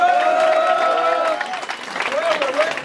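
Audience applause and cheering at a French-language rap battle, a steady wash of clapping and crowd noise that fills the whole stretch and thins slightly toward the end, with voices shouting over it.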